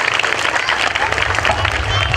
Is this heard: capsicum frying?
no